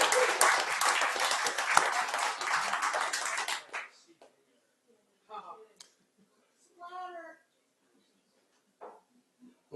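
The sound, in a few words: audience applause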